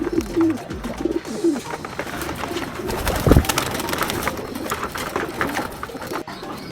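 Soft pigeon cooing close by, low rounded calls repeating over a steady background of faint rustling and ambient noise.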